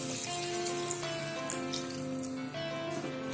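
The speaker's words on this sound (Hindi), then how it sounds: "अब हम इसमें 1 कप पानी को डाल देंगे" A cup of water pours into a hot pan of fried spices, a short splashing rush over lingering sizzle, close and steady.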